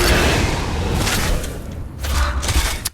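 Weapon fire in the video game Gears of War Reloaded, a held burst of heavy booming shots with mechanical rattle, loud and dense, briefly easing before resuming.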